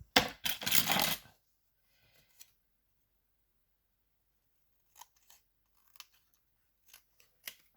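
A few crisp snips of small scissors up close, a quick burst at the start, then scattered light clicks and snips after a long quiet pause.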